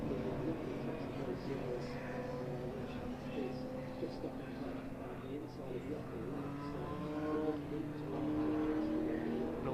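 Pre-1993 to 2003 touring race cars lap the Silverstone GP circuit during a rain shower, a steady blend of engine drone and passing cars at a distance, continuous throughout.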